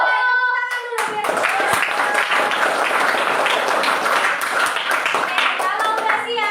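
Schoolchildren in a fifth-grade class clap their hands together in a loud, sustained burst of applause lasting several seconds, after a short bit of speech at the start.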